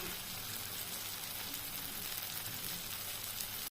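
Pointed gourd (potol) stuffed with rui fish fries in oil in a pan, a steady close sizzle and crackle that holds throughout and cuts off abruptly at the end.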